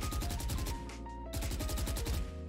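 Rapid automatic gunfire in Valorant rattles off in two long bursts separated by a short gap, loud and close and fired at an even fast rhythm, with no voices.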